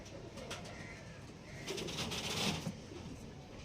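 Soft cooing of pigeons nearby, repeated low calls over a faint background murmur.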